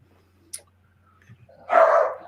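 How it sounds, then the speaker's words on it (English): A dog barks once outside, a short muffled burst at a distance following a faint click, with a quiet room around it. "People walk by with dogs outside."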